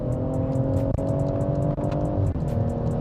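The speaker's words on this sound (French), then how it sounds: "oh, ce bruit quand tu passes les rapports" A BMW 140i engine hums steadily and loudly, with brief dips in its roar at three gear shifts spread across a few seconds.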